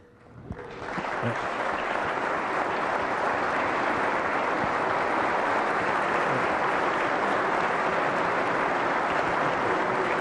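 Sustained applause from a large audience at a governor's State of the State address fills the hall, rising within the first second and holding steady and loud throughout.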